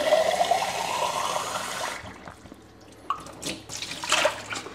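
A strong jet of tap water rinses the detached lid and parts of a portable blender with a 500 ml jar, gushing steadily for about two seconds before cutting off into faint drips and light knocks.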